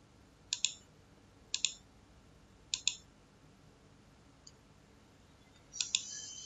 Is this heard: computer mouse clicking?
yes